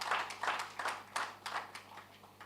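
Audience applause at a bond issuance workshop: scattered, fairly faint clapping from a small room, in irregular bursts that rise and fade over a couple of seconds with a steady low hum beneath.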